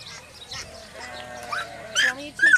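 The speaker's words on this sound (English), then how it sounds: "It's goats." Goats bleat at a farm in Davis, a couple of short, fairly close calls rising over a background of people chatting nearby.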